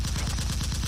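Rapid burst of gunfire from the Lego Marvel Spider-Man video game, a fast even rattle of repeated shots at steady loudness, close and alone for under a second.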